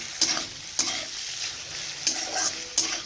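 Cauliflower pieces for a potato-cauliflower curry fry with spices in a pan, a steady close sizzle broken by several sharp scraping stirs of a spoon against the pan.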